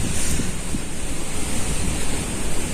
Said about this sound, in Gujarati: આટલો બધો પવન આવે છે.